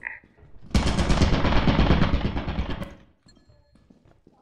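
Rapid automatic gunfire from a video game turret bursts in loud and sustained for about two seconds, then cuts off abruptly, leaving faint game ambience and low background voices.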